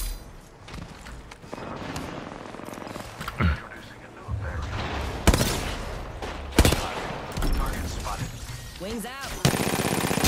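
Automatic gunfire in an Apex Legends battle royale match, bursts of shots crackling under a background music bed, with a couple of louder, sharper volleys partway through.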